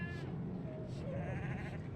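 Sheep bleating inside the Assassin's Creed 3 game world, a short bleat rising over continuous ambient game background noise and low rumble, with other farm animals nearby.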